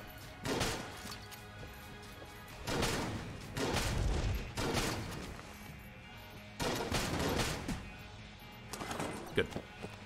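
Pistol gunfire in the video game Enter The Gungeon, arriving as several separate bursts of sharp crackling shots spread over the stretch, loud and close, with game effects filling the gaps.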